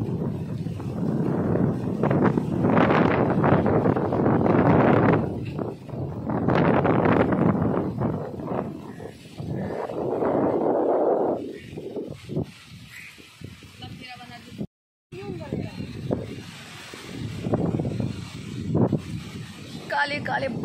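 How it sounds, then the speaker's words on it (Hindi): Strong wind buffets the microphone in an open village field, with gusts rising and falling in loud roaring bursts. Someone talks intermittently over it. "बहुत तेज हवा है।"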